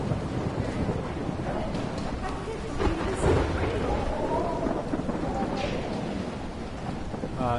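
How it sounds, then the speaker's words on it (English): Thunder rumbles and rolls through steady rain and wind in a thunderstorm in the video game Life is Strange, with a louder crack near the middle and a character's voice faintly over the storm. "So the storm is on this side"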